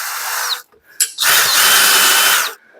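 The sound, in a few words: drilling with a D-bit on a handmade custom bike part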